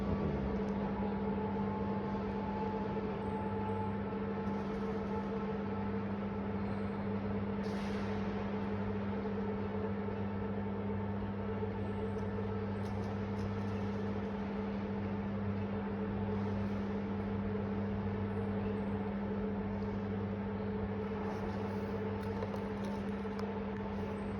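An electric motor on a basketball hoop runs steadily for the whole stretch, giving a constant droning hum with faint tonal whine and no talk.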